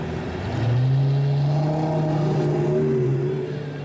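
An Abarth engine revs at a car display at Sherborne Castle, a loud, close exhaust note that climbs and holds, then wavers through a few pitch shifts before easing off.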